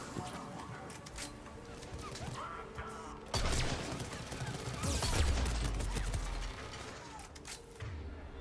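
Cannon fire in a sci-fi video game battle against the Reapers, heard as dense, rumbling blasts and booming impacts layered over continuous battle noise and chirping effects, growing louder in the middle before easing off.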